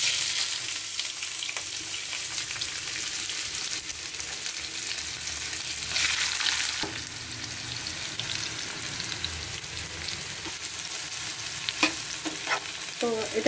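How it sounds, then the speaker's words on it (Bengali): Chopped tomato, garlic and onion frying together in hot white oil, a steady close broadband sizzle with occasional stirring clinks and scrapes, no voices. "তো এটাকে এবার একটু ভালো করে ফ্রাই হতে দিতে হবে"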